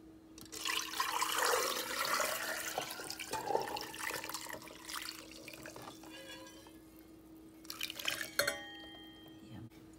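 Cooled salt brine with cloves poured from a container for salted eggs, a steady splashing, trickling flow that runs for several seconds, then thinner drips and splashes toward the end.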